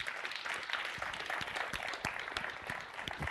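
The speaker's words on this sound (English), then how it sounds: "everyone really needs to give this man a big applause for what he's doing for the community." Sustained applause from a crowd, dense steady clapping throughout with sharper individual claps standing out.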